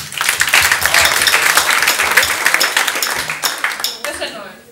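An audience at a mock 2017 chancellor-debate event at an arts academy breaks into loud, dense, sustained applause that thins and fades out at the end.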